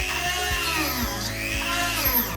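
A drill fitted with a bit boring a series of small holes into wood for a homemade coffee table, a close whining motor whose pitch dips and rises repeatedly as each hole is bored.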